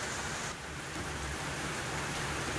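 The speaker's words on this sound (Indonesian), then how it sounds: "ini udah mendidih guys dan udah mulai surut ya airnya" Green coconut milk boils in a pan while being cooked down for oil, giving a steady, dense bubbling and sizzling hiss that continues evenly at close range.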